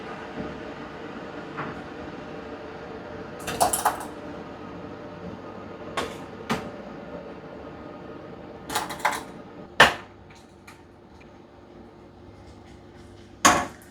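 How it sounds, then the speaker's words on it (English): Preheated glass canning jars come out of a home oven during strawberry jam making, giving a handful of sharp, scattered glassy clinks and knocks over a low steady hum. "Get my preheated jars out of the oven."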